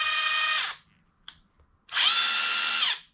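Kobalt 24-volt brushless 3/8-inch ratchet wrench driving bolts at speed one, two bursts of high motor whine separated by a brief pause and a small click, the second burst longer and louder, close up.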